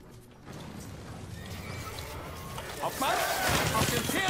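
Horse neighing and hooves clip-clopping in the strategy game Stronghold Warlords, with battle noise building toward the end and a voice talking over it.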